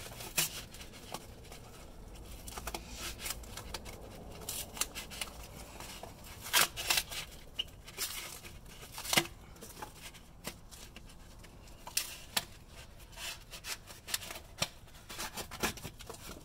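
Cardboard is torn and crinkled by hand while working on a Ford F250 axle shaft seal, giving scattered sharp rips and crackles over quiet background for a long stretch.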